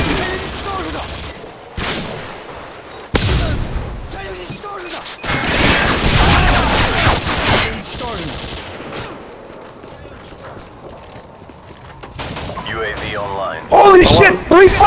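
Gunfire rattles through a Modern Warfare 2 match, with repeated bursts and blasts at irregular intervals, loud and close, mixed with game effects and someone talking over it.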